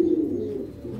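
Pigeons coo in a loft with a short, low, throaty note that holds steadily for about a second.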